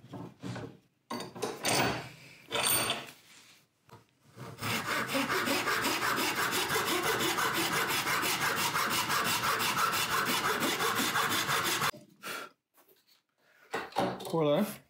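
A hand saw cuts through wood at the heel of a violin neck, giving a steady, close rasping run of rapid strokes for several seconds. Brief handling knocks and a quiet voice come before and after it.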